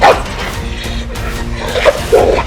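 A dog barks and yips a few times nearby, short sharp calls spread across a couple of seconds with some background noise.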